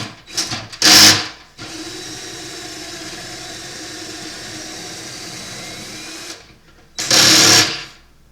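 A cordless drill whirs in two short, loud bursts at the start and end, with a steady quieter motor hum running between them, working after a battery change during a honey harvest.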